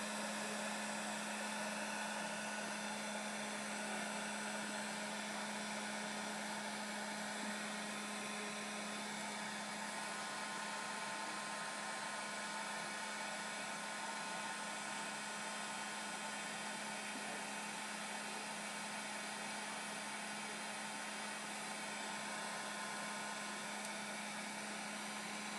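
A hair dryer blowing steadily on a journal page, a constant even whoosh with a low hum, quiet and unbroken throughout.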